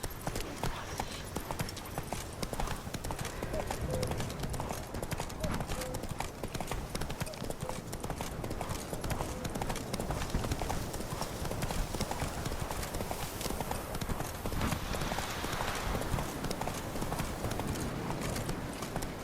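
In The Witcher 3, the horse Roach gallops with a steady, fast clip-clop of hooves at medium distance. Wind and game ambience run underneath, and someone speaks now and then.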